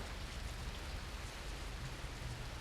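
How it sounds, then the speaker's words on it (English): Steady rain in the Fernbus bus simulator video game, a dense continuous hiss of rainfall with splashes, even and fairly loud throughout, with no talk. "Now, there's no splashes of the rain in it, which would be nice for the realism, but oh, there are there though."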